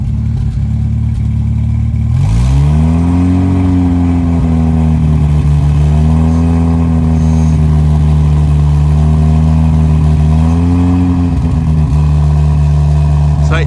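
Hillman engine after a carburettor rebuild, idling and then revving up as the RPM is raised, its pitch climbing and holding steady at a higher speed, loud and close.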